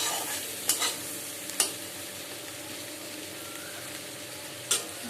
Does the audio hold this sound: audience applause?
no